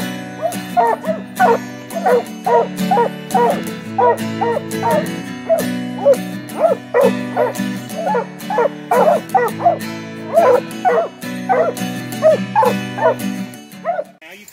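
Coon hunting dogs bark in Indiana woods on a November hunt. Several dogs bay and yip close by in a fast, near-continuous rhythm of repeated calls.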